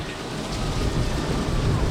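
Heavy rain pours in a severe thunderstorm with flooded streets, a dense roaring wash with deep low rumbling of thunder underneath, loud and unbroken with no voices.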